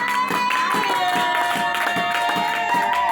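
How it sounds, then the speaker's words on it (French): A church congregation claps and cheers together in a steady, dense burst of applause that fills the space evenly from start to finish. "Acclamez d'abord, acclamez."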